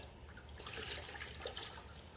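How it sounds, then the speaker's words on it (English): Water is poured or runs while a painted part is cleaned with rust and paint cleaners. A soft, steady splash and trickle goes on throughout, faint and close, with no voices. "And I am going to add a little more water to it."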